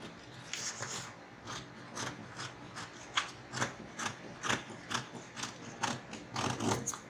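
Scissors snip steadily through paper pattern pieces for a yoke blouse, with a quick series of close, crisp cuts and light paper rustling and no talking.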